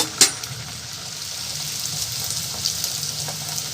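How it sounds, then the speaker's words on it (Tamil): Paal poli (milk poli) dough fries in hot oil, giving a steady bright sizzle with a short sharp splash near the start and no talking. "எண்ணெய் காஞ்சிடுச்சு. முள்ளமாக ஒன்று போடுறேன்."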